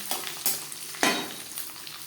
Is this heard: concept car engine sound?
no